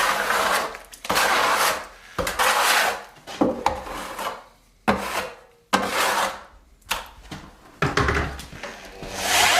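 A clean bucket trowel scrapes around the edges of a plaster bucket in a series of rough, rasping strokes. The close, loud scrapes come in bursts separated by short pauses, with no talking.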